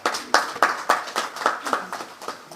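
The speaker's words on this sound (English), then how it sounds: "Another round of applause for the Honorable Minister" Applause for a minister at a government press conference in Gambia comes as sharp, evenly spaced claps from a small group, ringing a little in the room and fairly close.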